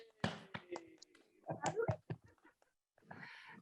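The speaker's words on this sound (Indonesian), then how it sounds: "Tepuk tangan atuh." A small group claps briefly in a few uneven bursts close by, mixed with chatter and laughter, then a pause and a fainter stretch of noise.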